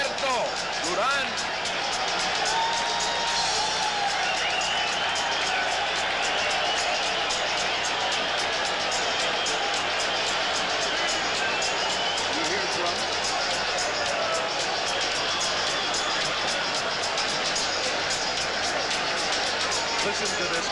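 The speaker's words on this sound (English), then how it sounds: "Listen to this crowd." Crowd roaring at the 1980 Roberto Duran vs Sugar Ray Leonard boxing fight, a dense, loud, unbroken wall of arena noise and cheering with a commentator's voice running underneath.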